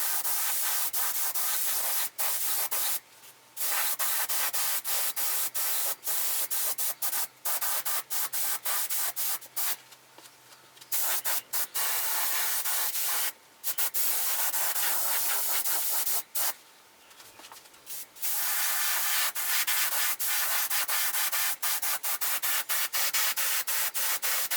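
A spray gun with its fan pattern narrowed to a small, round, airbrush-like spray lays a base coat on a rifle stock, making close, steady hissing bursts broken by several short pauses.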